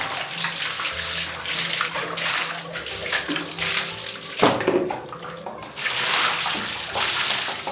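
Water pours steadily from a tap or shower as a pet dog is bathed indoors, a loud continuous splashing rush with brief changes in flow partway through.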